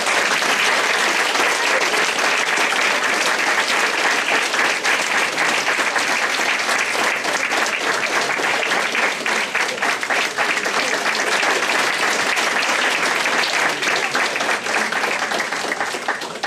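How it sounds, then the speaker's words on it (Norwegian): At a rally outside Tromsø city hall, a large crowd gives sustained, loud applause that stays dense and steady for over sixteen seconds, with individual claps showing a faint rhythmic pulse near the end. "så mottar en skikkelig applaus dem også"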